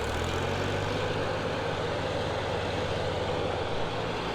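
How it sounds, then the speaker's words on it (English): A John Deere 3-point mower powered by a tractor runs with a continuous loud, rough mechanical drone and low engine rumble, steady throughout with no talking. "We just threw this John Deere 3-point mower on the tractor and hooked it up"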